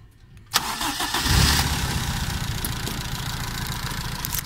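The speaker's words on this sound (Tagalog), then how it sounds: "Start ko na yung makina." A car engine cranks briefly, then catches and settles into a steady, loud idle, close by, during spark plug tester checks on the high tension ignition wires.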